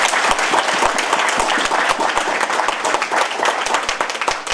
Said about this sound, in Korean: 큰 박수 한번 스스로에게 보내주시고요